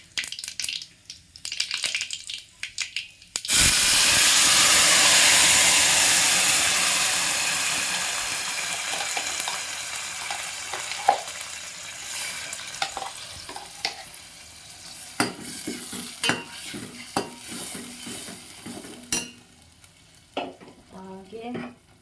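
Ground masala with curry leaves hits a hot pan in a home kitchen with a loud, sudden sizzle that slowly fades, followed by repeated scraping and clattering strokes of stirring.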